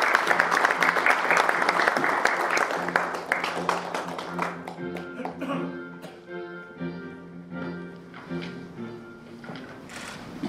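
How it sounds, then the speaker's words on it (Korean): A seated audience at a Korea University alumni journalists' anniversary ceremony applauds the university president, with dense clapping that thins out and fades over several seconds, while a voice talks in the background. "박수 부탁드립니다."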